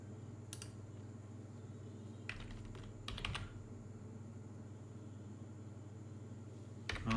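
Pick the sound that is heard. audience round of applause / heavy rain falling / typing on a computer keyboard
typing on a computer keyboard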